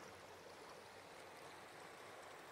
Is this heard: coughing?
no